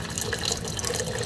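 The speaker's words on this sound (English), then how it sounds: "I'm going to add some warm water to dissolve it in the bottom" Warm water pours into a jar to dissolve salt for lacto-fermented dill pickle brine, a short, close, continuous splashing trickle with bright liquid hiss.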